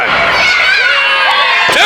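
A loud wrestling arena crowd reacts to a slow referee count during a main event, with sustained shouting, booing and whistling voices close and dense for the whole two seconds.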